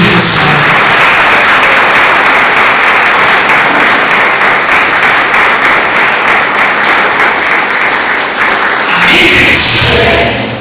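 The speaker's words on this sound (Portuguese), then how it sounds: "Pode aplaudir bem forte o Senhor Jesus" A church congregation gives loud, sustained applause for Jesus during a bishop's sermon, a thick roar of many clapping hands that holds steady for around ten seconds and shifts slightly near the end.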